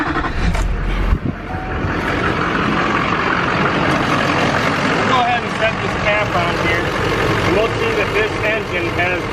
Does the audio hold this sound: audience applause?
no